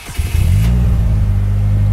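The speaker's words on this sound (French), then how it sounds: "je vais appuyer sur le bouton de démarrage" A manual car engine cranks briefly and catches after the start button is pressed, then settles into a loud, steady low rumble close by.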